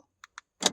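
A 2010 Toyota Yaris unlocks by key fob, with two sharp little clicks from the fob followed by a firm mechanical clunk of the door lock actuators, close and alone.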